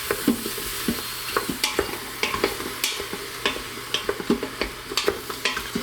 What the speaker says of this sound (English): You want to stir these mushrooms pretty frequently so they release their internal moisture